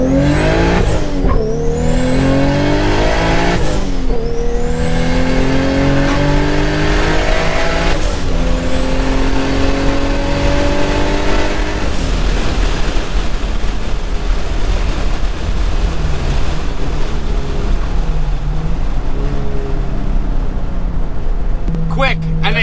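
A Toyota Supra pulls hard through first to fourth gear, engine climbing in pitch with each gear then dropping at each shift, heard loudly from inside the car with occupants talking.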